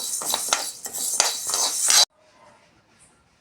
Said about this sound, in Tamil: பருப்பு எல்லாமே நல்லா வாசனையாக வர வரைக்கும் வறுத்துக்கணும்.